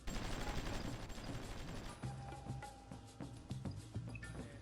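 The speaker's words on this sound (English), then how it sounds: "I can hear some firing." Bursts of gunfire from a battle in the strategy game Supreme Ruler Ultimate: a dense, loud volley at first, then scattered sharp shots and short rattling bursts over a low rumble.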